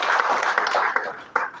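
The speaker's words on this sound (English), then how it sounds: "So a round of applause for our worthy veterans." Applause for war veterans at a formal honouring ceremony in western Kenya, a brief burst of crowd clapping close and fairly loud, uneven and fading, with a sharp final clap.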